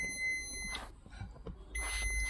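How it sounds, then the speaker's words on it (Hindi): Maruti Suzuki Baleno anti-theft alarm sounding in rapid high electronic beeps, a tight run of repeated tones that stops and then resumes, over low background noise. "ये जो बीप कर रहा है स्पीड से, इसका मतलब ये है, ये गाड़ी मुझे बता रही है कि किसी ने इस गाड़ी के साथ छेड़खानी की है"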